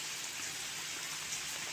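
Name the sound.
rain falling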